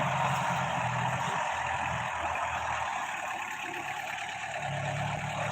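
A tractor engine drones loudly and steadily while turning during crop spraying in a field, a continuous mid-pitched rumble with no clear revving, close by and alone.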